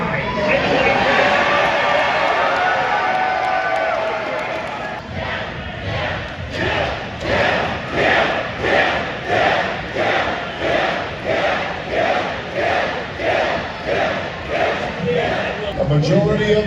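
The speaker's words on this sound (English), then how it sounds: "A majority of the crowd in the red team is up for killing." A red team crowd at OpenSauce shouts battle cries, first as a loud, dense roar, then as rhythmic chanted bursts that repeat about once a second.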